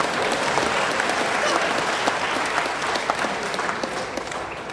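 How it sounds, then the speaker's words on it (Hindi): A large crowd at a Hindi comic poetry gathering claps loudly and continuously throughout, a dense wash of applause with a faint murmur of voices underneath. "सब ताली बजाओ या हाथ तक नीचे आएगा?"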